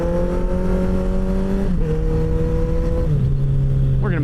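A motorcycle ridden hard through traffic, its engine holding a loud steady drone with a couple of quick gear-change drops in pitch and a fresh rising rev at the end, wind noise rushing underneath.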